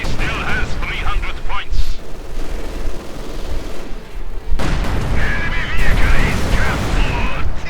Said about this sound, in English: another anti-tank grenade, H-85 moving in. And that's going to be the end of that flak panzer.